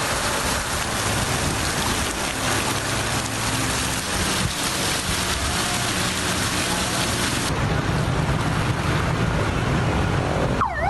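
Rain falls steadily across Karachi streets in news footage, a dense continuous hiss with low traffic-like rumble underneath and a brief tonal sweep near the end.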